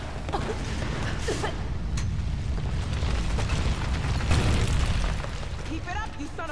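Explosions rumble in the video game Tomb Raider (2013), a sustained heavy booming roar with crackling bursts and creaks layered throughout, swelling loudest near the end before easing off.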